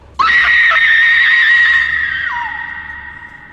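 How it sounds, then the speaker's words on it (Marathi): A loud, long scream used as a horror-story sound effect bursts in suddenly, holds at a high pitch, then drops lower and fades out over a few seconds, with no talking. "तर एक खूप मोठी किंचाळी ऐकू येते"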